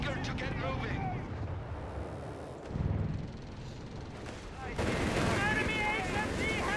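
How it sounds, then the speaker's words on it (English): Machine gun fire in the Company of Heroes 3 strategy game rattles in repeated bursts beneath louder explosive thumps, with a commentator speaking over the battle throughout. "Machine gun versus machine gun."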